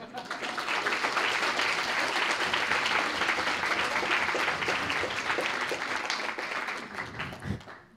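Audience in a lecture hall applauding at the final of an eloquence contest, dense sustained clapping that swells and holds for several seconds before tapering off.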